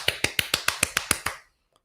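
A quick run of about eight sharp hand claps in an even rhythm, close and crisp, stopping abruptly after a second and a half.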